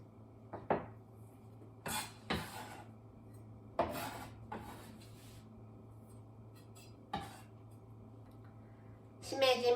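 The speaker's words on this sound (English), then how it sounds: "let's put it in a small bowl and set aside." Wafu pasta topping spooned into a small bowl in a home kitchen, with a handful of sharp clinks and scrapes of utensil against dish spaced through the clip over a steady low hum, ending in a short clatter.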